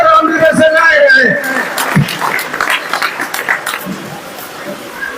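A crowd at a village honour ceremony in Haryana bursts into clapping and murmuring after a loud voice speaks over a microphone. The applause continues as a scattered, moderately loud patter.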